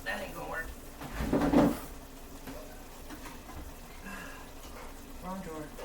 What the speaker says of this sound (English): Wrong drawer.